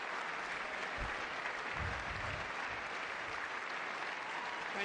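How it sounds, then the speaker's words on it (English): Sustained applause from the chamber during a State of the Union address, a dense, even wash of clapping, heard faintly with occasional louder thumps. "I'll clap for that."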